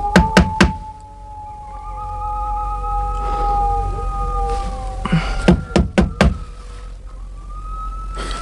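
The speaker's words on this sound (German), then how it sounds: "Ach, trotzdem klopf lieber an" Someone knocks on a front door in a retro radio drama, with three sharp raps, a pause over a low background hum and faint tones, then another cluster of knocks.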